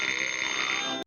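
Alarm clock ringing at 6 a.m. in a 1954 Looney Tunes cartoon. A loud, continuous metallic bell rattle fills the whole second, then cuts off abruptly at the end.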